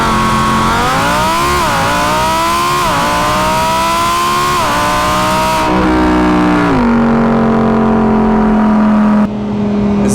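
A Lamborghini Huracan EVO LP640-4 launches from a complete stop at full throttle with stability control off. The engine roars loud and close, its pitch climbing and dropping through several quick upshifts before settling into a steady high drone.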